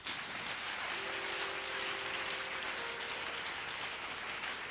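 A church congregation applauds at a service in a dense, continuous wash of clapping at steady loudness, with a brief held tone partway through.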